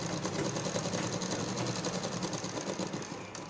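A sewing machine stitching a coat collar runs steadily at close range, a continuous whirring hum with fast needle rhythm throughout, no pauses.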